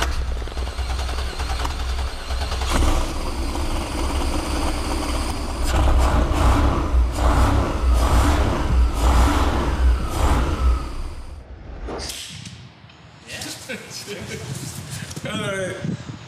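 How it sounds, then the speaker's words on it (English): A turbocharged LS V8 swapped into an AMG wagon runs loud and rough in a garage, with irregular revs and pops, then drops off sharply near the end as people talk. "Let's fire it out one more time. I want to hear it run one more time."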